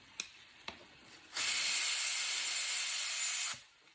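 Steam hisses loudly out of a pressure cooker in a sharp, steady two-second burst that begins abruptly and tapers off, preceded by a couple of faint clicks.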